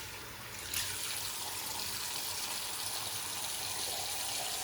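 Tap water running and splashing as a face is wetted before shaving, a steady close trickle and gush that starts with a brief surge, then stays even and moderately quiet.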